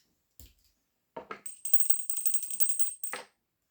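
Tarot cards shuffled close by: a short riffle, then a sustained fluttering ripple for over a second, ending in a quick snap, all against silence.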